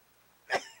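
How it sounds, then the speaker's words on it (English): A single close, sharp sneeze bursts out once after a quiet moment, with a faint breathy tail trailing off. "I'm sneezing."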